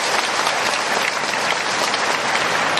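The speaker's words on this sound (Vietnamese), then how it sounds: "chúng ta nộp một tràng pháo tay lớn để mừng các cha." A church congregation applauds the priests with a thick, continuous wash of clapping, loud and unbroken throughout the short stretch.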